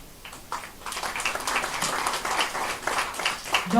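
Applause from a conference audience after a speaker's introduction at an international conference on Industry 5.0, a steady moderate wash of clapping throughout, fairly close and building slightly toward the end.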